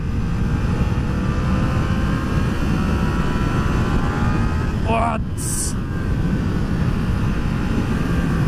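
A Yamaha MT motorcycle engine pulls steadily in first gear with a loud, constant drone and heavy wind buffeting, while a brief voice breaks in near the middle.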